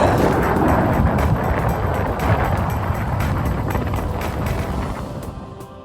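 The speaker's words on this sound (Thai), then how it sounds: "พื่อนๆฟังเสียงคลื่นและเสียงลมชัดๆกันเลยนะครับ ว่าแรงขนาดไหน" Strong wind buffeting the microphone over a continuous rush of crashing sea waves on a white-sand beach at Thung Wua Laen, Chumphon, Thailand, during monsoon season, loud and unbroken throughout.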